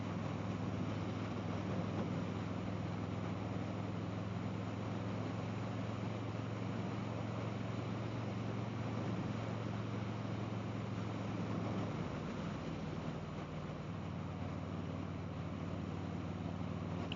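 Steady, loud wind roar buffets the microphone on a moving motorcycle, a constant rushing noise with a low engine hum beneath it and no voices.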